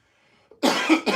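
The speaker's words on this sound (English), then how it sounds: "I'm coughing and shit." A person gives two sharp, close coughs in quick succession after a brief near-silent moment.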